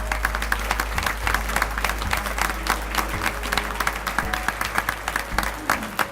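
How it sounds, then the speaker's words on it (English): Sustained audience applause at a community organization's awards gathering in Laredo, dense clapping from many hands filling the room steadily throughout, with a faint voice underneath. "Let's give them a big round of applause."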